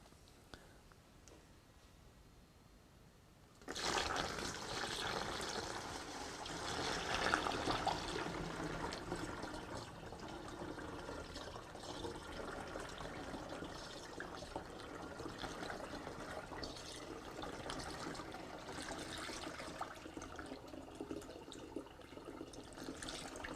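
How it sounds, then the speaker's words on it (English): Liquid resin from a wood stabilizing system slowly poured through a funnel into a container, a steady soft trickling and splashing that starts abruptly after a few seconds of near silence and continues faintly. "now what I'm going to do is just slowly pour the resin off into the container"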